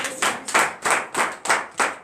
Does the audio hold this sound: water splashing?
no